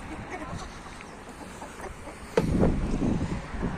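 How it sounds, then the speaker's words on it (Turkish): Chickens cluck outdoors on a pasture against gusting wind noise, with a louder burst of clucking partway through. "Tavuğumuz çıktı oradan."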